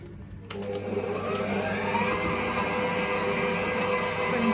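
An electric mixer beats Somali biscuit batter until fluffy, a steady motor whir that starts after a short quiet moment and then runs on evenly and fairly loud with no talk over it.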